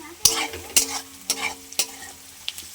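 Onions fry until reddish-brown in a pan for a country chicken curry, with a soft sizzle under a run of sharp, evenly spaced stirring scrapes, close and without voices.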